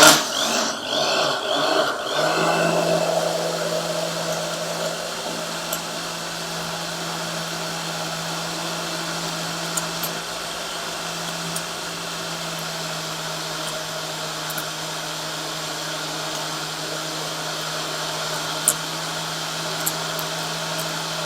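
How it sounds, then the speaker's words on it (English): An immersion blender whirs steadily while mixing black food colouring for chocolate bonbons, a continuous even motor drone after a short rougher start, with faint ticks and no speech. "I'm just processing it with immersion blender."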